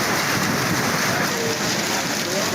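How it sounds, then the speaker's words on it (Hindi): Heavy rain pouring down over Lahore streets: a dense, continuous hiss of rainfall, loud and steady throughout with no speech. "शदीद बारिश होने से लाहौर की सड़कें नदी नालों का मंजर पेश करने लगीं"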